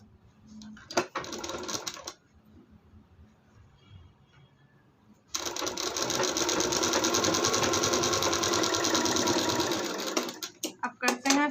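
A sewing machine runs in a steady, loud mechanical whir while stitching the second shoulder seam of a blouse, with a brief burst early on, a pause, then a long continuous run ending in a few stuttering stops.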